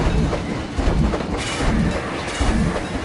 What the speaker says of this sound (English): the train's on the line here.